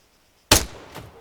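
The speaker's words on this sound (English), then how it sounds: "When you're ready, put some rounds down range." Rifle gunfire at targets in Arma 3, two sharp shots after a moment of silence: one loud crack with a decaying echo, then a second, softer report.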